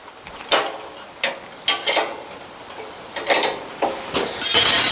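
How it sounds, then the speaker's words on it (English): An 11/16 inch wrench works tight bolts on the deck of a Wright 36i mower, giving a series of sharp, close metallic clicks and clinks at uneven intervals, ending in a louder burst of noise. "So I'm going to take an 11/16 inch wrench. Good gosh, these are tight. And just loosen these 2 bolts."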